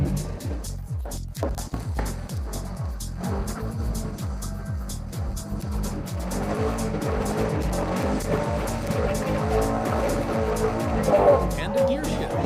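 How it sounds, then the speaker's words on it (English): A drift car accelerates hard and shifts from first into second gear, its engine rising in pitch in repeated sweeps at a drift event, fairly close, with a voice talking over it. "switch to second. All right, second gear, we keep going and accelerate."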